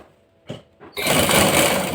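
Two quick taps come first, then a sewing machine starts up and runs in a fast, steady whir, stitching the edge of a boy's kameez close by.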